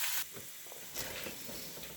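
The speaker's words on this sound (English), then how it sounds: "we still got the sizzle of the ham going there" Soft, steady sizzling of ham frying in a pan, a faint continuous crackle with small pops, no talking.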